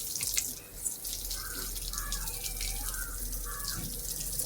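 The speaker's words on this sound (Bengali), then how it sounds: "গাছে জল দাও" Water running from a hose or tap while hibiscus plants are watered on a summer evening, a steady, soft splashing flow with faint chirping and background voices.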